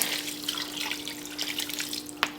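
Water splashing and gurgling into a pot of homemade dog food in uneven bursts, fairly close, over a faint steady hum, ending with a brief clunk.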